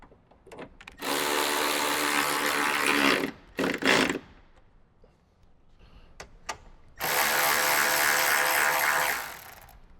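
A ratchet or power driver turns bolts while Toyota 4Runner Morimoto XB Evo headlights are installed, with two sustained whirring runs separated by short clicks and a quiet pause.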